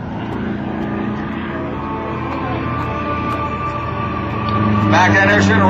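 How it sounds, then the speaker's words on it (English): A Pitts Model 12 aerobatic plane with a 400-plus horsepower M14 radial engine performing at an airshow, giving a steady, droning engine roar that swells louder toward the end. "showing the power of that M14 400 plus horsepower radial engine"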